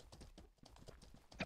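Horse hooves clip-clop in a video game as riders remount, a quick steady run of soft thuds at low volume with a brief brighter sound at the end.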